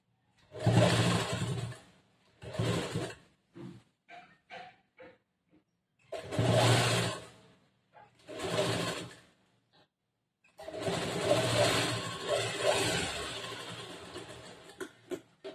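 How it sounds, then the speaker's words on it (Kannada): A sewing machine stitches a churidar top sleeve in a tailoring class. It runs in several bursts with short pauses between them, and the longest continuous run of stitching comes near the end. "ಈ ತರ ಜೋಡಿಸ್ಕೊಂಡು ಆಮೇಲೆ ಮತ್ತೆ ಹೊಲಿಗೆ ಹಾಕಕ್ ಸ್ಟಾರ್ಟ್ ಮಾಡ್ಬೇಕು"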